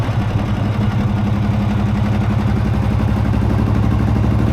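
A 1937 Harley-Davidson Knucklehead, a big 61-cubic-inch V-twin motorcycle, runs steadily nearby with a loud, deep, lumpy throb and a continuous pulsing beat, with no one talking.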